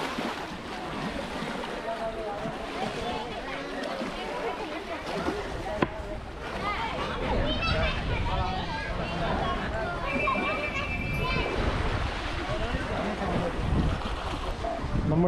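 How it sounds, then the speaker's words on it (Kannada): A boat ride on river water, with continuous wind buffeting and splashing water through the whole stretch, a brief sharp knock partway, and voices talking over the rush. "ನಾವೀಗ ಈ ಬೋಟ್ ಹತ್ತಿ ಒಂದು ಸುತ್ತು ಬರುವ."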